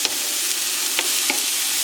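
Vegetables for a pizza topping cook in a pan, a steady close sizzle with a few light clinks or stirring taps scattered through it, no speech.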